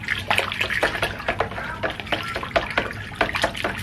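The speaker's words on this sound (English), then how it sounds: "So I'm just gonna use a comb to stir this up." A comb swirling conditioner mixed with fabric softener through a basin of water, giving a rhythmic series of sloshing, splashing strokes at close range.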